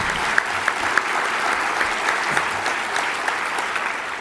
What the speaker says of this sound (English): we all need to give him a round of applause for those efforts